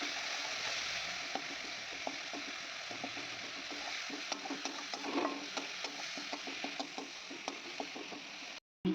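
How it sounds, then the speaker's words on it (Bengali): Fish curry masala with tomato, ginger and garlic is stir-fried in a pan: a steady soft sizzle under many small scraping ticks from a stirring spoon, close and fairly quiet, with a brief cut near the end. "এখানে মাছের ঝাল বানানো হচ্ছে টমেটো আদা রসুন দিয়ে, আর এটাকে খুব ভালোভাবে কষা হচ্ছে।"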